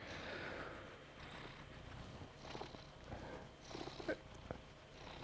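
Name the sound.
cat purring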